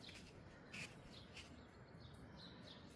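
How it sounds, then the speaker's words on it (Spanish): Crow-like caws and bird calls outdoors on a cloudy morning, several short faint calls spaced irregularly over a quiet background, no talk. "Ay, mira, pájaros."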